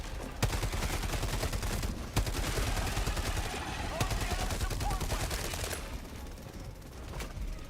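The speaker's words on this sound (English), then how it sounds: "Gatling Sentry should have my back for a second" Gatling sentry turret in Helldivers firing sustained rapid bursts of gunfire, with dense crackling shots and a few louder sharp cracks over several seconds, loud and close with battle noise underneath.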